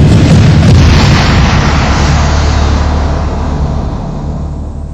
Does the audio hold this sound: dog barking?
no